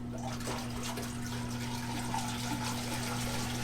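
A Zeny portable twin tub washing machine runs with water inside, giving a steady, continuous churning and sloshing wash with a low motor hum underneath, close by and unbroken.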